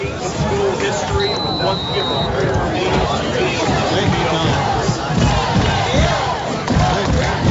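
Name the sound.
excited crowd cheering at high school football game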